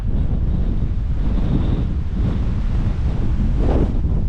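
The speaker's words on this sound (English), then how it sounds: "It's really blowing a gale" Gale-force wind on Table Mountain above Cape Town roars and buffets the microphone in a loud, continuous, rumbling rush with gusty swells and no voices.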